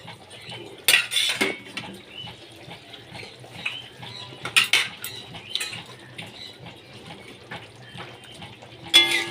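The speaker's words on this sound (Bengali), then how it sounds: "এবার এর মধ্যে আমি বেগুন ভাজাগুলো দিয়ে দিচ্ছি।" Fried eggplant pieces go into a pan of hilsa fish curry with clinking spoon and pan knocks in several sharp bursts over a quiet background.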